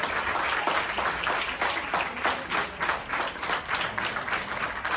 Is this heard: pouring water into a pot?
no